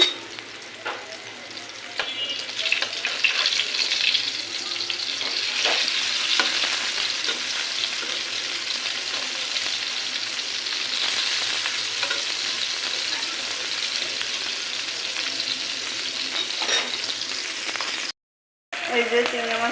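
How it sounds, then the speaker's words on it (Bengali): Rohu fish frying in a pan gives a loud, steady sizzle and crackle that runs almost without a break, with one brief dropout near the end. "এখানে রুই মাছটা ভাজতেছি।"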